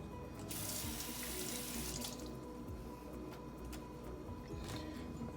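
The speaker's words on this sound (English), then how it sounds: "I'm gonna wash my hands real quick" Hands are washed under a running kitchen sink tap, a steady close hiss of flowing water with splashy bursts as the hands move through the stream, continuous throughout with no talking.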